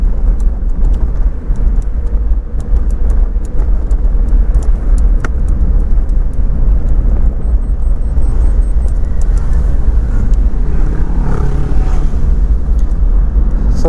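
A Daihatsu Copen small convertible sports car drives down a winding mountain road, with a steady low engine and road drone and wind noise heard from inside the car, continuous and fairly loud.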